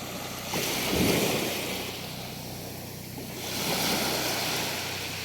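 Wind buffets the microphone while ocean waves wash and surge ashore at La Playa, Morong, Bataan, rising around the start and again near the end.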